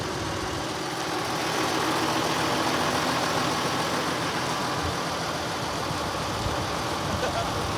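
Tractor and car engines idle together at a farmers' protest outdoors, a steady broadband rumble that stays loud and even throughout with no distinct pauses.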